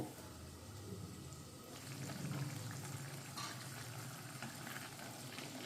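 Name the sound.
spice paste frying on low-medium gas flame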